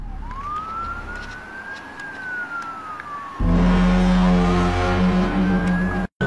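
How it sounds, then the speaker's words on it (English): A police siren wails in a rising and falling sweep, then loud traffic rumble and a second siren cut in, dense and close, before a brief dropout. "Police sirens and cop cars could be heard riding all around"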